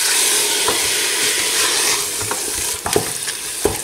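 Chunks of leg of mutton browning with spices in a pan, a close steady sizzle broken by sharp scraping stirs and clatters near the end, no voices.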